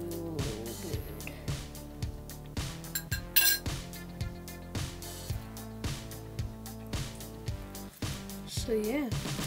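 Rapid, rhythmic wet clicks and pops from slime being squeezed up close, repeating about twice a second.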